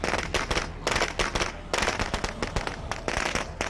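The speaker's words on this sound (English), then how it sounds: "It's funny that the firecrackers barely make noise" Video game firecrackers going off in rapid crackling bursts, loud sharp pops clustered in several quick volleys with brief pauses between.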